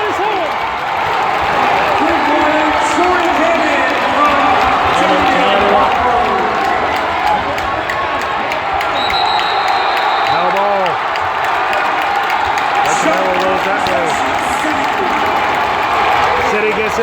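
Basketball crowd at a City College vs Sherwood 3A finals game at the Xfinity Center roars and cheers continuously, with whoops, applause and sneaker squeaks under a commentator's voice.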